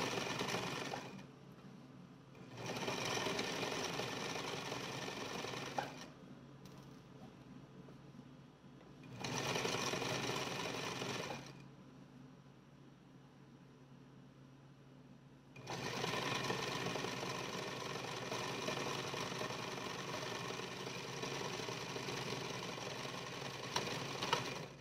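A sewing machine runs in three bursts while stitching a 5/8 inch seam. The bursts are separated by short quiet gaps, and the last run is the longest. The stitching is close and steady, with no talking.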